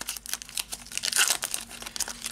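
Sticky tape crackles and rips in short, uneven bursts as it is pulled off a Pokémon Sun and Moon card tripack, close and fairly quiet, with no talking.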